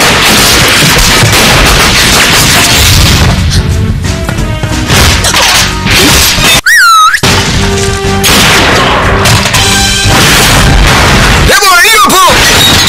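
Gunfire in a video game with Swahili live commentary: repeated booming and cracking shots and bursts come loud and dense throughout, under steady excited talking.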